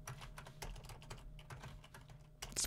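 Rapid, irregular keystrokes on a standard English-layout computer keyboard, close and fairly quiet, clicking steadily throughout with a slightly louder burst near the end and no talking.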